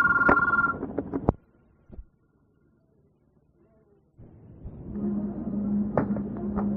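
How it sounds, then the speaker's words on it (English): A telephone rings in short bursts, then a pause of near silence, followed by renewed ringing with a hum underneath. "You heard the phone ring."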